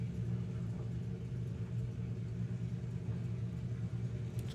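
Supercharged Volkswagen Corrado drag car at a Bug Jam drag strip, engine rumbling steadily and fairly loud at idle or low revs throughout, with no sharp revving bursts.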